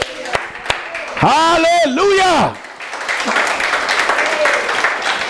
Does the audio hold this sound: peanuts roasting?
no